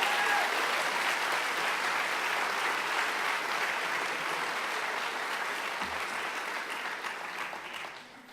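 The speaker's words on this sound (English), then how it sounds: "Let's give these students a round of applause" An audience applauds at a high school senior awards ceremony, steady and full clapping from a sizable crowd that carries on for several seconds before tapering off, with no talk over it.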